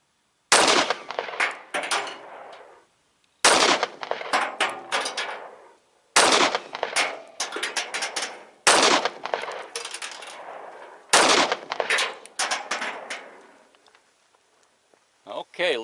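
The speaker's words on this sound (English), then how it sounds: "First 5 is going to be my 200 grain hand load going on the left target." An M&P 45 M2.0 pistol fires 200 grain .45 Auto hand loads at a range, with five sharp, loud shots spaced a few seconds apart, each trailing a short echo, and a sixth cut off at the end.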